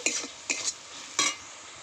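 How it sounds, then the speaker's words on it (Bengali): A spoon stirring water spinach with spices in a pan, giving three quick scraping, sizzling strokes close by with short pauses between them and no talk. "এবার ভালো করে মিশিয়ে নেব"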